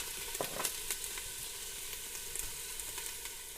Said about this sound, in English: I'm just going to saute the onion.